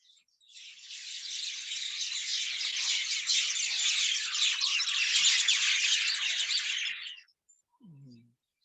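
Many birds in a tree by a house rooftop make a dense, loud, shrill chattering chorus that runs unbroken for about six seconds and then cuts off, followed by a brief low voice.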